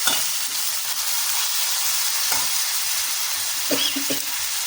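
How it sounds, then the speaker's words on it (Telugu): Tomatoes frying with ginger garlic paste in a pan make a steady, loud sizzle close by, with a few soft scrapes and knocks of stirring breaking through. "ముందుగా 2 టమాటాలు కట్ చేసి పెట్టుకున్నాం, అవి కూడా వేసి వేయించుకోవాలి."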